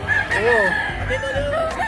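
Rooster crowing close by at a chicken market, a loud rising and falling call over background murmur and clucking.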